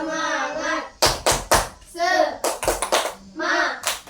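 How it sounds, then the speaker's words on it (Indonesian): A class of children performs the rhythmic 'tepuk semangat' spirit clap, loud bursts of hand claps in a patterned rhythm alternating with the group chanting together. "Tepuk semangat dulu."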